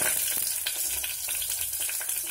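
Green and dried chilies, mustard seeds, cumin and curry leaves crackle in hot tempering oil, a dense close sizzle with rapid popping and spitting throughout, no voices.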